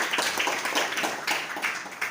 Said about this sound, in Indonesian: coba berikan tepuk tangan dulu teman-teman